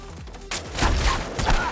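Gunfire in a movie scene as a character shoots wildly: a quiet lead-in, then a burst of loud overlapping shots and booming impacts.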